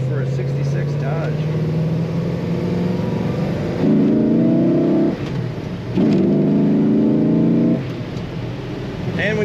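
A 1966 Dodge Charger with a 426 Hemi V8 accelerating at full throttle from inside the car, its engine droning loud and steady, then surging in two strong revving bursts as it pulls through the gears.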